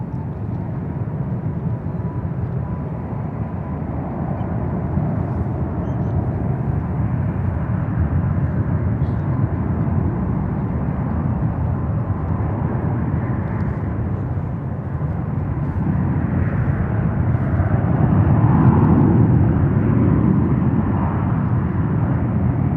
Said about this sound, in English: heavy Airbus 350 departing the parallel